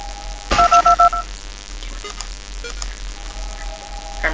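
Telephone dialing tones in the Five Nights at Candy's 2 horror game: a quick run of four or five clear beeps early on, followed by quieter electronic hum and faint clicks.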